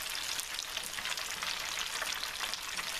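A beef burger patty for a deep fried bacon Swiss burger fries in hot oil or fat, giving a steady, dense crackling sizzle that holds even and close throughout, with no voices.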